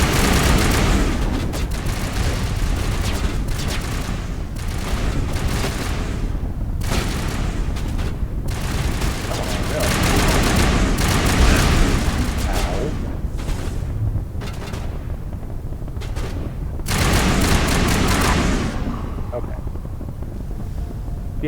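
Gunfire from the Mass Effect video game churns through a noisy, windy battle soundscape in rough, booming bursts, with voices talking throughout.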